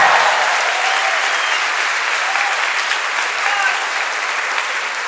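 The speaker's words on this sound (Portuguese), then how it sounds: "E aquele que crê, dá um glória bem alto e aplaude a palavra." Sustained, dense applause from a church congregation at a religious talk, steady and loud throughout with no pauses, filling the room evenly from start to finish.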